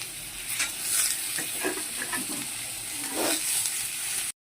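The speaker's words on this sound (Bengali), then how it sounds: "এই কড়াতে বরবটিগুলো দিয়ে দেবো। তো দেখো যে দিয়ে দিচ্ছি, এবার একটু ভালো করে কষিয়ে নেবো।" Yardlong beans with potatoes fry in hot oil in a wok, giving a steady close sizzle broken by several scraping stirs of a spatula, with no talking.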